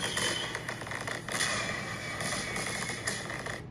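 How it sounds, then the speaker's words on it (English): Small backyard fireworks crackle and pop in a dense, continuous burst of sharp reports, loud and close, with no pause. "Little fireworks show for all of you out there"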